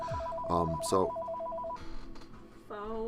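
A telephone rings indoors with a few short electronic tones, spaced unevenly and mid-level in volume, while people talk around it.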